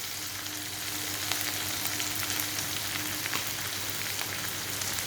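Fenugreek fries in a pan with salt and turmeric, a steady close sizzle with light crackles and occasional stirring scrapes, no voices.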